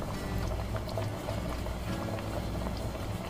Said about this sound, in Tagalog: Kumukulo na ang ating gata.